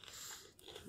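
A person snacks on almonds, making a quick close-up bite and a crunchy chew within a single brief second.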